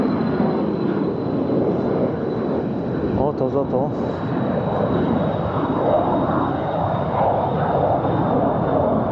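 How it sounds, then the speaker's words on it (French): Near Alcaidesa Marina by Gibraltar, a small private jet roars steadily as it takes off, a continuous loud engine rumble throughout, with someone speaking briefly over it. "Ah, il y a de nouveau un avion qui va décoller."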